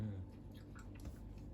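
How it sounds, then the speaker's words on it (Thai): Someone slowly chews a mouthful of food from a home shabu and salmon sashimi meal, soft close-up mouth sounds with faint squishy bites over a low steady hum. "ค่อยๆเคี้ยวนะ"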